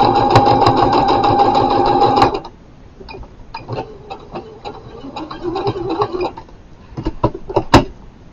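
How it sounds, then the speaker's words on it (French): Sewing machine stitching a fabric snood, a fast steady mechanical whir for about two seconds, then stopping, followed by scattered handling clicks and taps up close. "j'ai presque fini de coudre mon snood"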